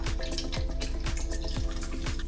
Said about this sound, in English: and then we'll pour in our water